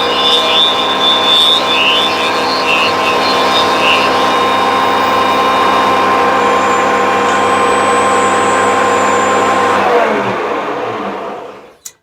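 An overhead router runs steadily through a cut in wood, its loud, even high whine holding for about ten seconds before it powers down and spins to a stop, with no talking.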